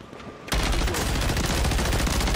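Sudden burst of gunfire in the Warzone video game erupts after a quiet half second, a dense, loud rattle of rapid shots continuing to the end without speech.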